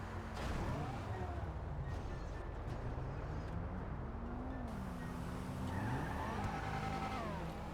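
A heavily modified car in GTA 5 revs at full throttle, a loud continuous engine drone with rising and falling pitch sweeps and tire noise, steady throughout.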